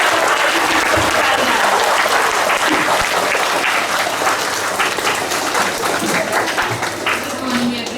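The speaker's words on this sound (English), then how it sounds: "activate your energy chakras with lots and lots of clapping" An audience at an award ceremony applauds loudly and continuously, a dense wash of many hands clapping that holds steady for several seconds.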